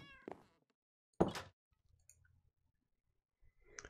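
A cat meows in Minecraft, first briefly, then again with a short, louder call, separated by quiet gaps and faint clicks.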